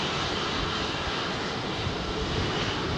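A Boeing 777 jet takes off from runway 27R at London Heathrow, a loud, dense, steady engine roar heard close up and continuous throughout.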